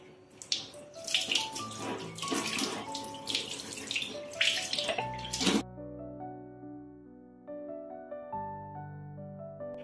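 Water poured from a vessel over a scrubbed metal tap, splashing loudly and steadily for about five seconds before stopping, leaving ringing metallic tones.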